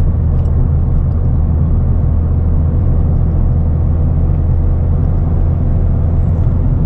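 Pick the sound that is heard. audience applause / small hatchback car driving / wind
small hatchback car driving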